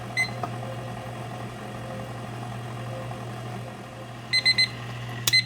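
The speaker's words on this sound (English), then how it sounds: "Once that minute is up, we're ready to move on to the next step." A kitchen timer beeps during cinnamon roll dough making, giving a short burst of three or four quick electronic beeps near the end, followed by another brief beep pair, over a steady low hum.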